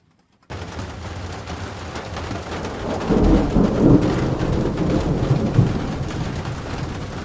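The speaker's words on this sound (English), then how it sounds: "There's thunder and lightning like crazy" Heavy rain pours steadily on a tent while thunder rumbles loudly through the middle, a deep rolling crash that swells and slowly fades under the downpour, in North Carolina.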